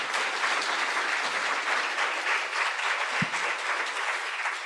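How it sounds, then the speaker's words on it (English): An audience at an ICFP 2025 conference session gives a round of applause, dense, even clapping from many hands that holds steady for several seconds without voices. "could all take a second just to give Janice a round of applause for taking the time to describe it."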